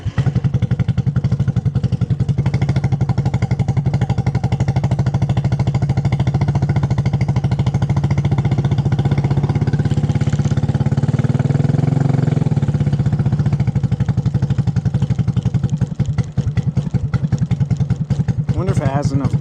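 A 250cc go-kart engine cranks and then runs with a loud, rough, clattering mid-pitched drone that wavers and stumbles, with people talking over it.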